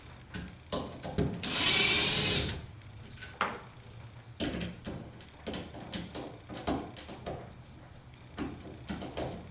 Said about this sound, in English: I'm just taking out these 9 screws.